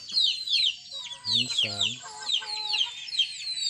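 Native chickens fed organic feed clucking in short bursts close by, over a constant high chatter of chirping chicks, with someone speaking briefly.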